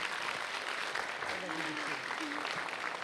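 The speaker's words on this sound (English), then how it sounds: "give Emad a huge applause." Audience applause, dense and continuous clapping from a crowd at an event with a faint voice or murmur mixed in underneath.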